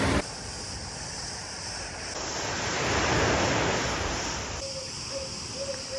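Sea waves wash onto the shore at Almyrida on Crete in a broad, steady roar that swells and eases, with wind noise in the microphone and no talking.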